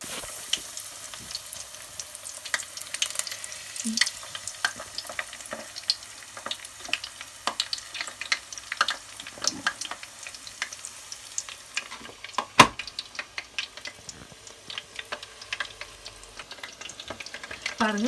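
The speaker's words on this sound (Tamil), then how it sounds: "ஃப்ரை ஆகி வருது. இப்போ பொட்டேட்டோ சிப்ஸ் வந்து ஃப்ரை ஆகிட்டுது." Potato chips fry with a steady, close crackling sizzle made of many small pops, and a single sharp clink rings out partway through.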